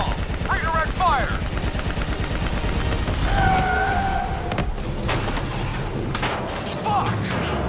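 Gunfire from the video game Call of Duty Black Ops 3, a loud run of automatic shots set against game music and explosions, with radio chatter mixed in.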